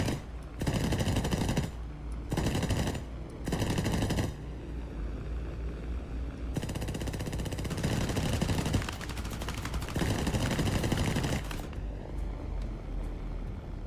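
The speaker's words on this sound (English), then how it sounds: "I'm just shooting at anything that moves." Rapid machine-gun bursts from a Spitfire floatplane in the War Thunder combat game, loud sustained volleys of several seconds each separated by short gaps, with engine noise droning beneath.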